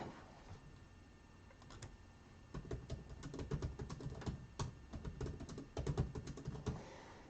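Fingers type on a computer keyboard in quick, irregular runs of close clicks and taps that grow busier partway through, with no voices.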